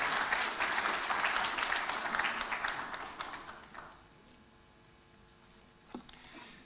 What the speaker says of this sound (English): Let's make him feel welcome, ladies and gentlemen. A round of applause.